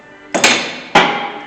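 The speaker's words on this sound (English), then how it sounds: "Always got to have a hammer" Two sharp hammer blows on metal, about half a second apart, each ringing briefly before fading, during brake and rotor replacement on a 2007 Honda Accord.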